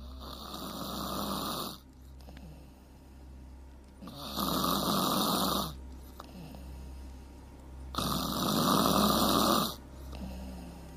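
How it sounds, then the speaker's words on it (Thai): A man snoring in three long, loud rasping breaths spaced evenly a few seconds apart, each rumbling from the throat, with quiet pauses and a low steady hum between them. "เสียงกรนก็ดังขึ้นมาจากในลำคอ"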